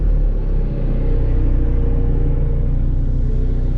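Off-road 4x4 in muddy terrain, its engine held at full throttle in third gear, a loud steady close rumble that barely varies throughout, with no voices.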